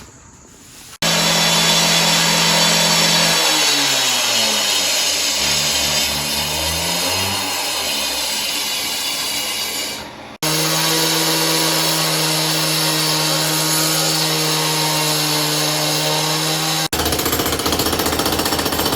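A power saw cuts through a shop floor to make a dyno pit, with a loud, harsh grinding roar whose pitch shifts as the blade works, a brief dip near the middle, and then a steady cut.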